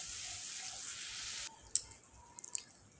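Poppy seed and cashew paste being sautéed in a pan for doi katla, a Bengali fish curry: a soft, faint sizzle, then quieter stretches broken by a few sharp stirring clicks and taps.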